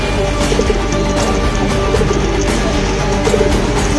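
Large desi pigeons for sale coo in a few soft, low, throaty bursts at an even spacing, set against a steady, noisy market-like background.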